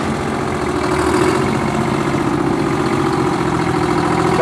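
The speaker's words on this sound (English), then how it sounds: "look at this Oliver with a Detroit diesel in it now" A restored 1959 Oliver 990 tractor fitted with a Detroit diesel engine idles at a farm show tractor parade, a loud, steady, throbbing diesel rumble held close by without a break.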